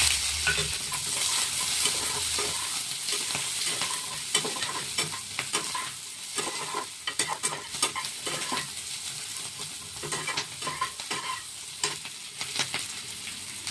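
Onions frying in hot oil in a pan while being stirred, a steady close sizzle broken by irregular scraping and clattering strokes of a utensil against the pan.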